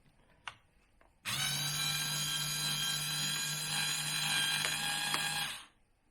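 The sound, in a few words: Black & Decker battery drill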